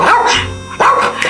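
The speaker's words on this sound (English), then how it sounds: "This is Willow, our puppy." A pet puppy barks and yips in a loud, close, rapid series of short calls, filling the whole moment with no talk.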